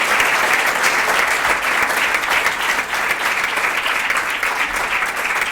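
An audience claps at a book presentation about an anti-discrimination law, a loud, dense and steady round of applause from many hands that fills the whole stretch evenly.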